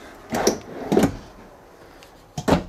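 Three separate wooden sliding thuds, one after another with short gaps, like drawers being pulled open and pushed shut nearby, inside a 2022 Keystone Cougar 29RKS travel trailer.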